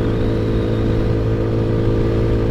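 An Ice Bear Maddog motorcycle engine runs steadily while riding, a loud, close, even drone with a throbbing low pulse and no talk.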